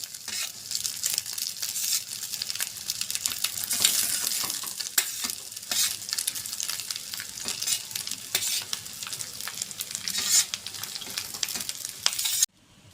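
Precooked rice stir-fried with fried egg in a pan for Bengali-style egg fried rice, a steady close sizzle with scraping and tossing strokes running throughout, no voices, stopping abruptly near the end.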